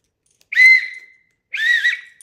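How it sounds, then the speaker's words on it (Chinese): An emergency whistle from an earthquake kit is blown twice, two short, loud, shrill blasts separated by a brief silence, heard up close. "看一下这个口哨管不管用啊？"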